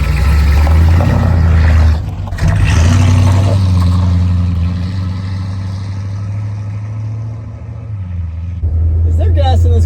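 A big-block-swapped 1966 Dodge Coronet 440 station wagon drives with a steady, loud engine drone that dips briefly and eases off mid-run before swelling again, heard from close inside the car.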